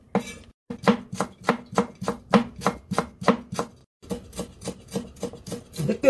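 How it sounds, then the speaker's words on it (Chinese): A knife finely chops scallions, ginger and garlic on a cutting board in a brisk, even series of sharp thuds, about two per second, with a brief pause midway before the chopping resumes, close and clear with no talking. "将啲葱啊嗰啲全部都切幼佢，切到碎"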